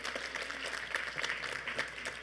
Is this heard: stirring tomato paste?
no